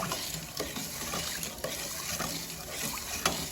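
Pickled strawberries being stirred with sugar, a steady close-up gritty scraping and rustling with soft clicks of the utensil, continuous and without talk.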